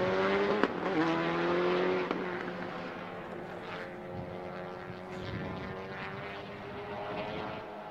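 A Subaru WRX race car laps Circuit of the Americas during a Super Lap Battle, its engine howling loud and close before fading into a steadier distant drone as it moves away.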